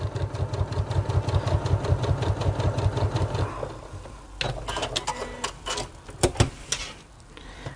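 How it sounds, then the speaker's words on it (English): A sewing machine runs a fast, even stitching rhythm along a fold of fabric binding for about three and a half seconds. It then stops, leaving scattered handling clicks and knocks. "And I'm stitching as close as I can to where that fold is of that binding."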